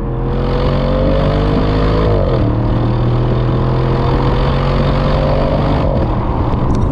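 A 2023 Audi RS6/RS7 Performance engine hums steadily from inside the car as it pulls away, a loud, continuous drone with pitch steps that shift up around gear changes, with no talking over it.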